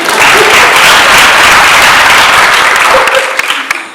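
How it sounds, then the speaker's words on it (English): An audience at the Kenya National Theatre awards gives a loud, dense round of applause that fades slightly toward the end, with a few louder individual claps at the close. "okay, we can clap."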